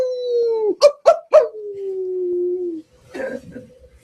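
A wolf lets out a long, wavering howl broken by three sharp yelps, then fades into rough, low barking at the end; close and loud, with no talking.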